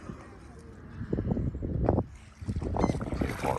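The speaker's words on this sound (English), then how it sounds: "Somebody towing a raft behind their boat." Motorboat towing a raft passes on the water near Matanzas Inlet, its low engine rumble rising and falling in two swells under light wind, heard from a bridge at moderate distance.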